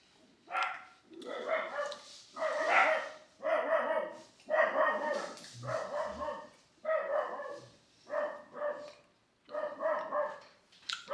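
A dog barks repeatedly in a steady series of about ten loud, fairly close barks spaced roughly a second apart, with no talk over them.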